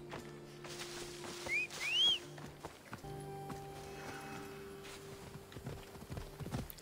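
Hooves of a horse clip-clop in Assassin's Creed Odyssey, a soft, uneven patter of steps under game music and ambience, with a couple of brief whistle-like tones partway through.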